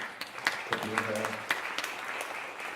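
Applause from the audience at a New York memorial gathering, scattered claps building into a light round, heard together with a speaking voice in the room.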